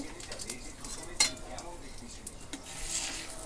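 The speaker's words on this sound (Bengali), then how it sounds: "তেজপাতা জিরা দিয়ে ভালো করে নাড়াচাড়া করে" Bay leaves, dried red chilli and cumin seeds stirred in a pan for a fish curry, a soft scraping of spoon against metal with one sharp clink and a faint sizzle underneath, close and fairly quiet.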